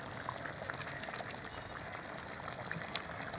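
Paneer in milk bubbling steadily in a pan, a soft continuous simmering hiss with faint pops throughout, close and low in level, no voices.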